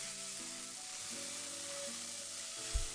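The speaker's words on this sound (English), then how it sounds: "She heats the frying pan coated with mayonnaise rather than oil" A frying pan coated with mayonnaise sizzles steadily in the visual novel The Fruit of Grisaia. The faint, continuous crackle runs under soft background music tones, with a brief low thump near the end.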